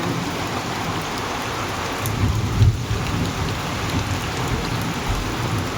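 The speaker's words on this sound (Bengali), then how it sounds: "এখনো পড়ে যাচ্ছে বৃষ্টি, এখনো পড়ে যাচ্ছে পুরো একদম।" Heavy rain pours steadily over a flooded courtyard as a continuous broadband hiss, with a brief low rumble of thunder about halfway through and no voices.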